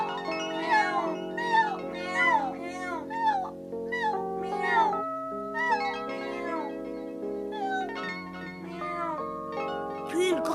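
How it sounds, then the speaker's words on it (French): Two kittens meow repeatedly for their mother in high, rising-and-falling cries, one call after another, over a sustained musical background. "Les deux chatons ne cessaient de miauler en réclamant leur mère."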